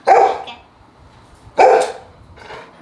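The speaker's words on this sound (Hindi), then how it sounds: "ओ देख, आंटी पे लैला भौंक रही है।" A dog barks at a visiting aunt at home: two loud, close barks spaced about a second and a half apart, with a softer yip at the end.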